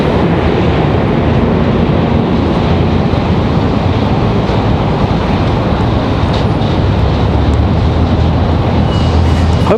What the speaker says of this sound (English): So a pair of Delta A319s touching down here, followed by Copa.